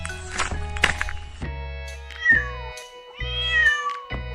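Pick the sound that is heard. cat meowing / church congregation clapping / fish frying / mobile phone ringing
cat meowing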